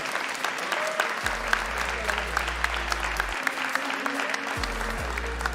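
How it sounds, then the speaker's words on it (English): Applause for the Zeta Division esports champions at the Brawl Stars Challenge finals spreads as a steady crowd wash under an amplified announcer's voice and low music tones. "give a big round of applause to Zeta Division"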